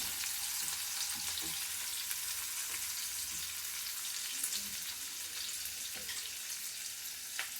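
Onions frying in a pan, a continuous even crackling sizzle close up with faint scattered pops, steady throughout and with no talking.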